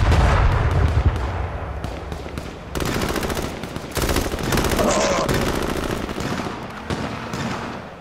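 Rapid gunfire crackles through a battle royale match in H1Z1, with bursts of shots and booming reports, some close and loud, others duller and farther away.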